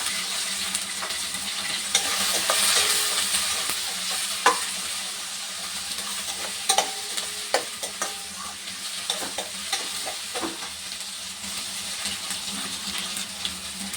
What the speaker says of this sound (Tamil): அந்த கத்திரிக்காய் வெங்காயத்தை நல்லா வதக்கிட்டு